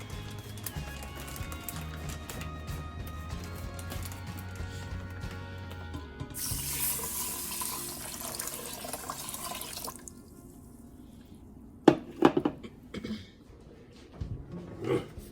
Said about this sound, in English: So I'm going to take and do 4 cups of water in here.